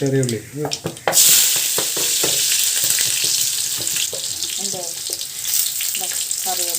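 Mustard seeds and shallots frying in hot oil, with a loud, steady close sizzle that starts after a few stirring knocks and runs on throughout, and faint scraping beneath it.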